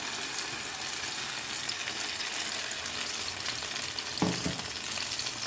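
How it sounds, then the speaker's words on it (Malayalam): Mashed overripe banana with blackened peel frying in a spoonful of ghee, a steady even sizzle throughout with a brief louder crackle near the end, no talking. "ഒരു സ്പൂണ് നെയ്യ് ഒഴിച്ചു കൊടുക്കാം നമുക്ക് അരച്ച് വെച്ച പഴം ഇട്ടെടുക്കാം"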